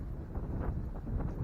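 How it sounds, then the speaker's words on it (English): Strong afternoon wind buffeting the microphone at a May campsite, a rough low roar with gusty surges that rise and fall throughout, alone without talk. "it has been horribly windy this afternoon"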